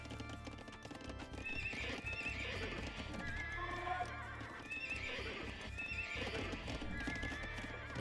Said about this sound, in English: Making the horse noise.